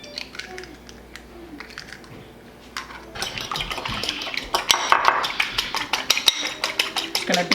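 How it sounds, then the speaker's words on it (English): Two eggs are beaten in a bowl while making sausage gravy. After a few quiet clinks, rapid clattering strokes against the bowl start up and get louder and denser, with no speech. "Gonna beat up the eggs."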